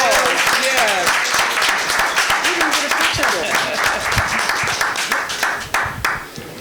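Applause from the audience at a Fairmount Heights council meeting for the county executive, a dense, steady roar of many clapping hands with voices talking and calling out over it, thinning toward the end.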